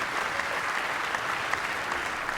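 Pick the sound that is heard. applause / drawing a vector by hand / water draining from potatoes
applause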